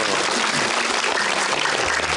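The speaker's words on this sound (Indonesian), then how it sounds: "Tepuk tangan dulu." A studio audience at an Indonesian Ramadan charity TV show claps together, a loud, dense burst of applause that runs steadily through the whole moment.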